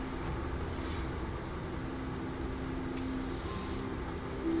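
Aerosol spray paint hissing onto a Su-35S Flanker-E scale model, a steady close hiss with a stronger burst near the end of the clip.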